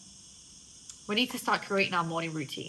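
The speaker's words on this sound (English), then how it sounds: "I don't know if you can hear the crickets outside." Crickets chirp steadily outside in Spain, a continuous high trill running through the whole moment while a person talks over it close up.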